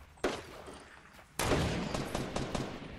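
Gunshots in Fortnite, a sharp single report early on and then a heavy burst of rapid fire that continues to the end, loud and close.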